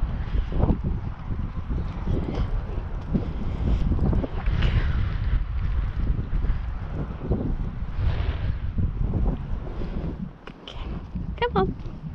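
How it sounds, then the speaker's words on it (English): Strong wind buffets the microphone in gusty, rumbling bursts throughout at an outdoor horse arena, with occasional knocks and a faint voice briefly heard near the end. "It's windy, isn't it"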